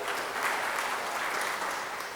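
An audience applauds business partners honoured at a Gujarati speaking event. The clapping is loud, steady and continuous, with no pauses.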